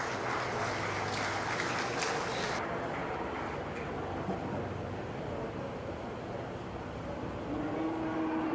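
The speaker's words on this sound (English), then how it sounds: "let's give a big round of applause to all these exhibitors" A crowd at a stocker feeder cattle show gives a round of applause for the exhibitors, a dense, steady patter of clapping heard from a distance across a large arena.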